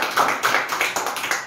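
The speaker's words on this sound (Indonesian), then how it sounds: "Mari semua tepuk tangan bagi Yesus." Church congregation claps together during a worship service, a quick run of sharp, rhythmic claps repeating about every fifth of a second, fairly close and loud.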